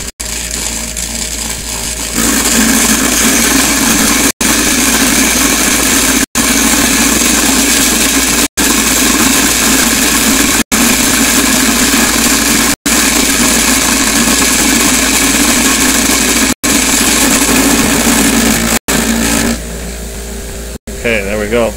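A cheap brass-cleaning tumbler runs steadily with a loud, constant rattling churn of media and casings, close up, with brief clicks at regular intervals and a quieter stretch at the start and end.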